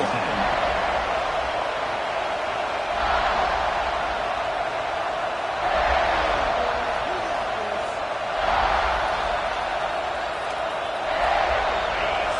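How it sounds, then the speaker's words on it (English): Crowd roar fills a football video game stadium as a steady wash of noise, swelling in periodic waves every few seconds, with a play-by-play commentator talking over it. "This crowd bringing the energy and noise early."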